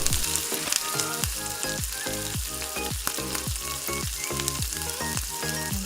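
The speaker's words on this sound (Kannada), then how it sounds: "ಆ ಪ್ಯಾನ್ಗೆ ಬಟರನ್ನು ಹಾಕಬೇಕು ಸ್ವಲ್ಪ." Butter sizzling loudly in a frying pan, a dense continuous crackle and hiss heard close up with rhythmic pulsing bursts of spitting throughout, no voices.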